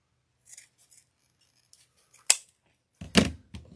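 Heavy scissors cut through thick wreath wire: a single sharp snip, then a louder crunching cut with a short follow-up, close and clear against near silence.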